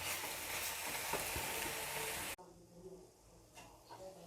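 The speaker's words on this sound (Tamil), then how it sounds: "இந்த அளவுக்கு பபிள் வர அளவுக்கு காய்கறியெல்லாம் நல்லா வதங்கணும்." Vegetables for avial sautéing and bubbling in a pan: loud close frying hiss that cuts off abruptly partway through, leaving quieter sizzling and light clinks.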